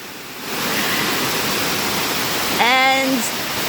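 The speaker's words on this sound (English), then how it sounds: "Seems like the waterfall goes downstream" Wang Sao Thong waterfall on Koh Samui, Thailand, gives a steady broadband rush of falling water throughout. A brief high whistle-like tonal sweep, likely a bird or voice, rises over it near the end.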